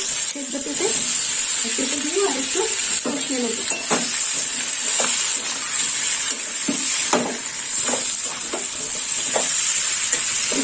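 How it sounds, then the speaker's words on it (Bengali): Boiled papaya pieces frying in a pan for a vegetarian curry, giving a steady close sizzle with scraping stirs and occasional utensil knocks throughout, with faint background voice. "এবার দিয়ে দেবো সেদ্ধ করে রাখা পেঁপে দিয়ে দিলাম"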